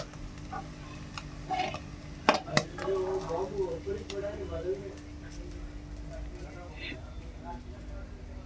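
Clinks and scrapes of a utensil against a pan while leftover cooked liver (mete) is reheated on a home stove, light stirring sounds with a couple of sharp knocks, faint sizzle underneath and quiet background noise.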